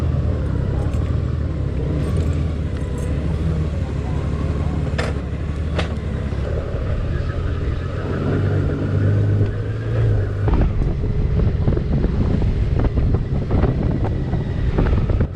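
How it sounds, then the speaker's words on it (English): Honda Goldwing touring motorcycle with DCT automatic transmission riding along a loop, with a steady engine drone buried under constant wind rush and buffeting that stays loud and unbroken throughout. "A sleeker redesign of the classic Goldwing, this bike struck me as extremely nimble with plenty of power."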